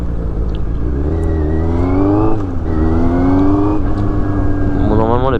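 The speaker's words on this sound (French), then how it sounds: "Je m'en lasse pas de ce bruit, de cette sonorité que le SC Project là me propose." A motorcycle fitted with an SC Project exhaust revs up and down on a ride, its loud, raspy engine note rising and falling in repeated pulls close by, with wind rush and a voice talking underneath.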